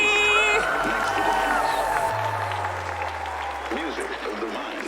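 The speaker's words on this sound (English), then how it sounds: "big round of applause again for our artists and category." Crowd applause and cheering at a cosplay championship, loud mixed clapping and whoops sitting over sustained music tones, fading gradually.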